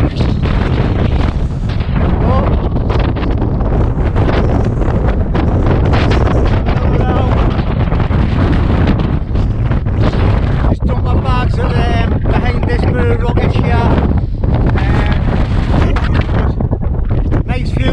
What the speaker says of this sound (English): It's definitely too windy up here